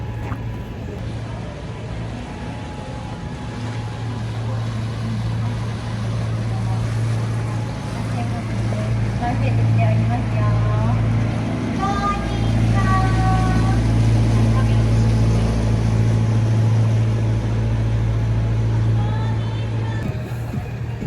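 A tour boat motor drones steadily during a daytime canal cruise along Dotonbori in Osaka. The engine hum is low and constant, with water wash and faint background chatter mixed in.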